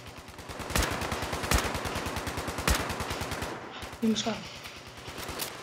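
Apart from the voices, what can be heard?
minigun gunfire in Fallout 76 video game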